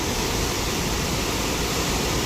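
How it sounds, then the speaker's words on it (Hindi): Loud, steady broadband rush of a swollen stream in flood during heavy rain near Manali, a dense continuous roar of churning water close by with no breaks. "देखिए यहाँ पर नाला है अपने उफान पे। इधर काफ़ी ज़ोर से बारिश हो रही है"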